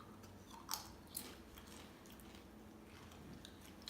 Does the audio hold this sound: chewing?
yes